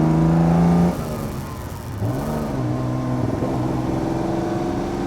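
A Fiat Dino Spider's Ferrari-built engine pulling smoothly at low revs and low load, a steady mid-pitched engine hum that dips briefly after a second, then settles into an even drone close by, with no voices.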